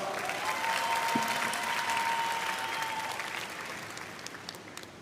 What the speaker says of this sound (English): Let's welcome her to the stage with a round of applause.